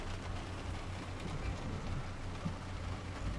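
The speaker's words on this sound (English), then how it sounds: "Because it's raining right now" Rain falls in the zombie survival video game Project Zomboid, a soft, steady wash of hiss with a low rumble underneath, fairly quiet and continuous without talk.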